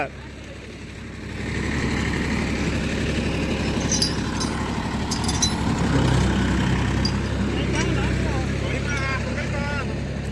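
A tractor stuck in a river keeps running with a steady low engine rumble that builds slightly and then holds, while people talk over it.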